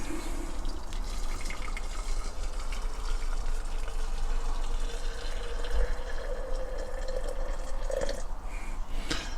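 Freshly boiled water poured from a kettle into a glass hot dog jar, a continuous close-up gushing and filling sound that rises slightly in pitch as the jar fills, with a faint splash near the end.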